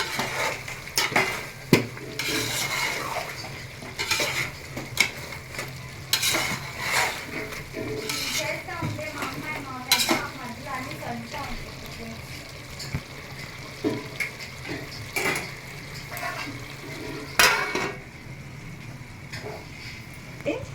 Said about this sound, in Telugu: మధ్య మధ్యలో తిప్పుకుంటూ ఉండండి అండి, లేకపోతే అడిగంటూ ఉంటుంది.